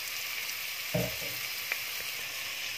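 Onion, garlic and ginger sauté in hot olive oil with a steady close sizzle and crackle, plus a soft stirring scrape and an occasional light tap.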